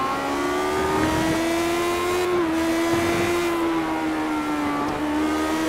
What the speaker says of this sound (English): Love the way these engines sound.